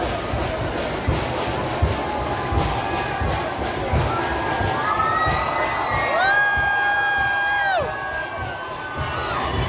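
A huge crowd of thousands at the Bhairi palkhi festival in Ratnagiri, Konkan, a dense continuous roar of shouting and cheering, with high whistle-like tones rising above the din toward the end.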